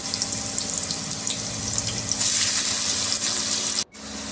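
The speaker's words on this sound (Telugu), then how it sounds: "ఇప్పుడు బాగా ఫ్రై చేసుకోవాలి, బ్రౌన్ కలర్ వచ్చేటట్టు ఆనియన్స్ పచ్చిమిర్చిని." Chopped onions and green chillies fry in hot oil in a pan for chicken masala curry, giving a steady close sizzle and hiss throughout that cuts off sharply near the end.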